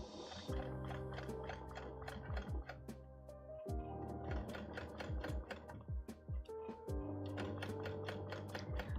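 Sewing machine top stitching on fabric at top stitch length, a steady mechanical whir with rapid ticking needle strokes in several bursts with brief pauses between, close and clear with no talking.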